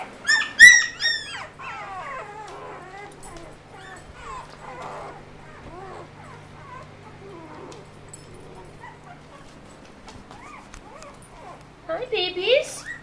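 Month-old puppies and an adult dog whimper and yip in high, wavering cries, close and moderately loud, while a person speaks softly in between.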